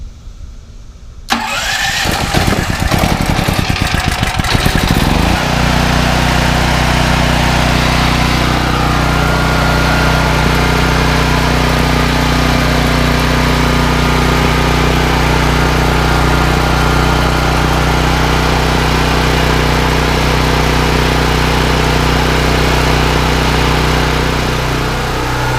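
A Firman 9400-watt tri-fuel hybrid generator engine cranks on the electric starter, catches after a few seconds of churning, then settles into a loud, steady, close-up running drone that continues unbroken.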